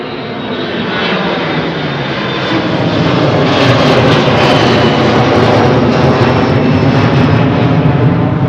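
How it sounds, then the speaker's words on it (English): An old Boeing 737-300 airliner at Anchorage gives a loud, steady engine roar that swells over the first few seconds and then holds close and strong. "This is an old 737, isn't it?"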